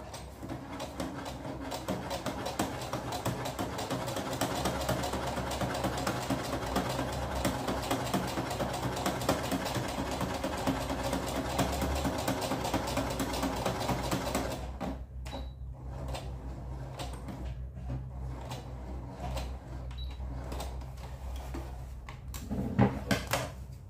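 A basic Brother sewing machine stitches dishcloths with a steady, fast mechanical whirring for about fifteen seconds, then stops, leaving quieter intermittent clicks and handling sounds.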